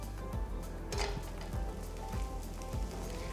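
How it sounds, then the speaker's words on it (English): Beetroot dosa frying in ghee on a hot pan, a steady close sizzle with soft, evenly spaced scraping or clinking touches of a utensil, no voices. "As it cooks, apply a little more ghee over the dosa."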